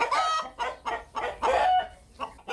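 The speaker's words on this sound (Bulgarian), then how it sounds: "Давят се 20-ти птици и новородени котета, които Стоян не успява да спаси." Chickens cluck and squawk in a flooded yard, a series of short, loud, close calls in an uneven rhythm with no talk.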